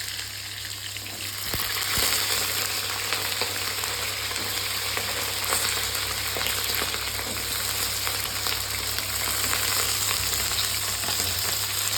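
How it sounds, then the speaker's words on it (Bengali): Chopped potatoes fry in hot oil with a loud, continuous sizzle and fine crackling that grows fuller after a clink near the start, browning for a mocha (banana flower) dish. "আলুগুলো সুন্দর করে লাল লাল করে ভেজে নেব"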